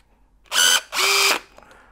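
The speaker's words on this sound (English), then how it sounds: "So if you place your blind rivet nut on the tool, just lightly press that with your finger, the tool's ready to go." A STANLEY battery-powered blind rivet nut tool runs in two short, close whirring bursts with a brief pause between them, followed by a faint click.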